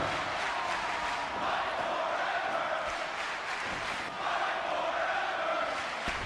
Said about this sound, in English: And the crowd is into this match. Hear them chanting